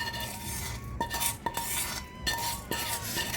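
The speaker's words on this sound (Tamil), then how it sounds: "இந்த உளுந்தம் பருப்பை இதில் போட்டுடலாம்" Urad dal goes into a pan, with a spoon scraping and clinking against the metal in several short strokes over a low background hiss.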